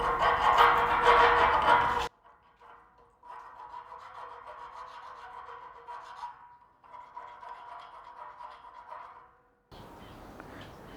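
A file cleans up the edges of small metal corner pieces for a heavy metal workbench base. The rasping starts loud and dense, then continues as quieter, longer scraping passes separated by short breaks.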